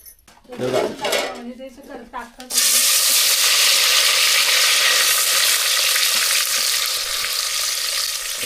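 After a few seconds of talking and clinking utensils, a loud burst of sizzling as onion and bay leaves hit hot oil for tempering, then steady frying.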